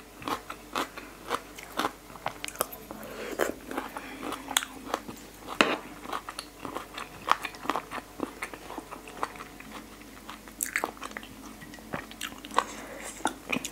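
Crispy mala chicken tails being chewed up close, with a steady run of loud, sharp crunches and bites and crackly breaks over a quiet background.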